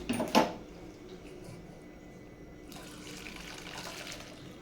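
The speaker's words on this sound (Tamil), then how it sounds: "ஒரு ஃபில்ட்ரு வச்சுக்கோங்க பாஸ்தாவை வடிகட்டி எடுத்துக்கலாம்" Boiled pasta and its hot water pour through a strainer in a kitchen, starting with a brief splash and then settling into a steady rushing, trickling stream close by.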